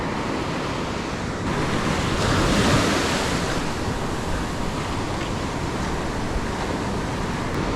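Surf breaking at Windang Beach, a steady loud roar of white water with wind buffeting the microphone, swelling slightly midway and continuous throughout.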